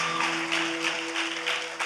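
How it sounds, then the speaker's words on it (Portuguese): Church congregation applauding during a Brazilian revival vigil service, a dense steady wash of many hands clapping at close range, with a sustained musical or organ tone held underneath throughout. "Salva de palmas para essa igreja."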